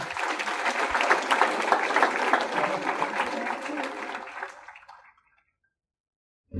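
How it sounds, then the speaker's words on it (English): An audience at a school career presentation program applauds to welcome the chief guest onto the stage, with steady dense clapping and a few voices mixed in, tapering off into silence. "please join me in welcoming our chief guest, Mr. Shrey Parida, on the stage with a huge round of applause"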